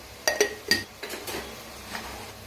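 Turmeric, red chilli, sabzi masala and coriander powder are stirred into rice in a pot. A metal spoon clinks sharply against the pot several times and then scrapes more softly.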